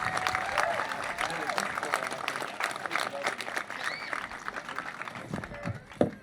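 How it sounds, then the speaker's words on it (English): A crowd at an outdoor park grand opening celebration claps in sustained, dense applause, fairly loud and near, with a few scattered whoops before the clapping thins out at the end. "So I'm just going to ask us to please give a round of applause for Kurt."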